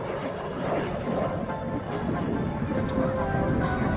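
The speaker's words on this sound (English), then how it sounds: "Brett's flying it today, got his roots in the Royal Air Force" A display aircraft flies at the Southport Air Show, its engine a steady broad roar and drone heard at a distance throughout.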